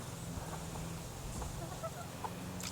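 A broody backyard hen clucks softly in a steady low murmur under outdoor ambience, faint and close.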